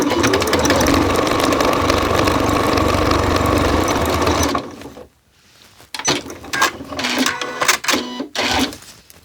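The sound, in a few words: sewing machine stitching along piping seam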